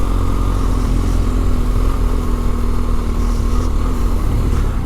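A BMW R1250GS Adventure motorcycle rides off-road on a small gravel road, its engine holding a steady, loud, close drone with no talk over it.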